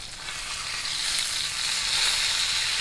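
A whole pomfret coated in masala sizzles steadily in a hot pan, a close, continuous crackling fry that swells slightly louder toward the end.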